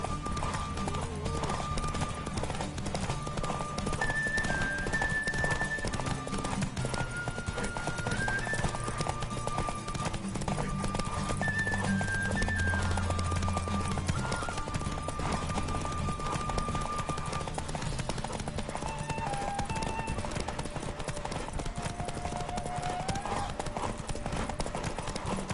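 Roach the horse gallops in The Witcher 3, with a rapid, steady clip-clop of hooves continuing throughout, close and even, over a faint bed of game music.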